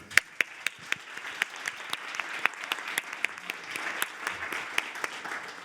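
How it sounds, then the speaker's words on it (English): Applause from a conference audience for a regional innovation panel, steady moderate clapping with sharp individual claps standing out, continuous for several seconds with no talk over it. "can I say a huge round of applause to my panel"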